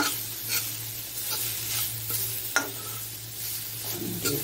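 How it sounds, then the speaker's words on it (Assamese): Crushed ginger, garlic and green chili fry in a pan with a soft, steady sizzle. A utensil stirs and scrapes now and then, and a faint low hum runs underneath. "আদা নহৰু কেঁচা জলকীয়া খুন্দা দি এতিয়া অকণমান ভাজিম"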